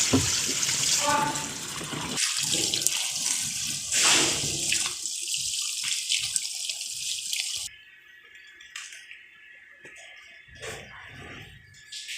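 Water running while a blanket is washed: steady splashing flow from a tap, with scrubbing and sloshing, close by, easing into quieter trickles and drips near the end.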